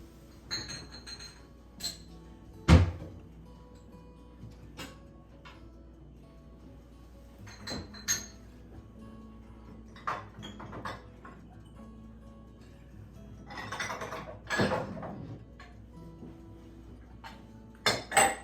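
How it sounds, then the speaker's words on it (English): Glass jars are picked up and set down among clutter, giving scattered clinks, taps and knocks of glass on hard surfaces, some sharp and close, with quieter handling sounds between. "So I'm just going to grab a new jar."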